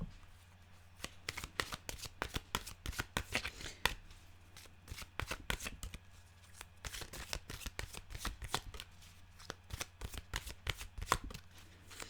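A deck of animal cards being shuffled, giving repeated crisp riffling bursts with short pauses between them, close and fairly quiet over a hushed room with nobody talking.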